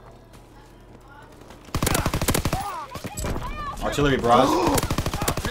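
Rapid automatic Tommy gun fire in Call of Duty WWII multiplayer, a sudden loud sustained burst of close shots after a quiet start, continuing with further fire and in-game noise while a player talks.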